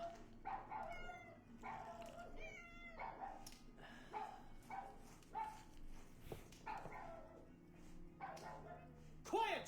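A pet dog named Joan barks and yips repeatedly in short bursts, near and fairly loud, over steady game music and someone talking during an Assassin's Creed IV: Black Flag playthrough.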